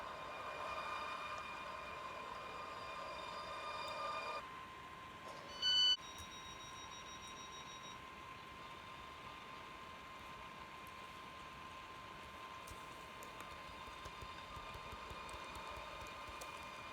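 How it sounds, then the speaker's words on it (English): A train in the video game Stepford County Railway gives a quiet, steady electric whine with layered humming tones, a sharp short beep near the middle, and a softer drone afterwards, with no talking. "This train is the service from Stepford Central."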